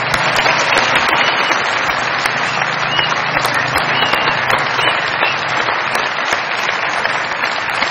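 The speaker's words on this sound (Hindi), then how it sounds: "बहुत सारी तालियां मेरे भाई के लिए।" Studio audience at a television comedy show claps for a contestant, a full, even roar of applause lasting several seconds without fading, close and dense.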